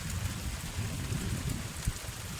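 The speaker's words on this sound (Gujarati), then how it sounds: "ભાઈ કડાકા ભડાકા સાથે ફૂલ આવ્યો છે અને ભાઈ જોરદાર વરસાદ પડે છે" Heavy rain pours steadily in a village, with a dense close hiss and low rumbling underneath that could be distant thunder.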